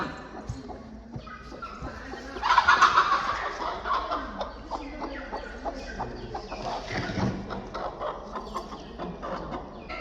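Country chickens clucking and murmuring nearby in a new shed, with a louder burst of squawking early on, over a constant low hum of background noise.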